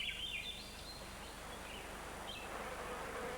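A thin, high mosquito buzz drifting in and out over quiet outdoor ambience at a barred owl nesting area, steady and fairly close.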